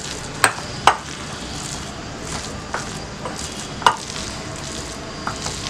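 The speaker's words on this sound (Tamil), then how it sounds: "இப்போ நம்ம எண்ணெயில் ஃப்ரை பண்ணிக்கலாம்" Spinach tikka frying in oil: a steady, fairly loud hiss of bubbling oil with a few sharp metallic clicks and taps from a utensil, close by, no voices.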